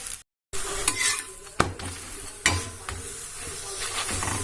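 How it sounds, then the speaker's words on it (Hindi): A stuffed flatbread pressed down in a pan of oil and ghee sizzles steadily, with a brief silent gap near the start and a few sharp scraping knocks from a spatula along the way. "इसको मैं अच्छे से दबा के सेकूंगी, जिससे बिल्कुल करारा और क्रिस्पी बनेगा"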